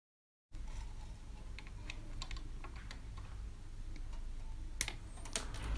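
A spring on a Honda CD 70 motorcycle side stand is cut, giving a steady close rasping grind with scattered sharp metallic clicks and ticks throughout, and no voices.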